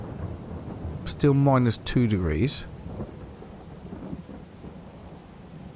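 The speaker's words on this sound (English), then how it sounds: "It is raining and there is still snow everywhere" Rain and rolling thunder in Farming Simulator 22 during a wet March with snow still lying, a low rumble beneath steady rainfall while someone speaks briefly over it.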